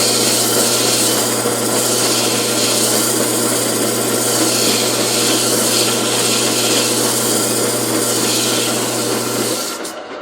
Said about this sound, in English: use your sandpaper.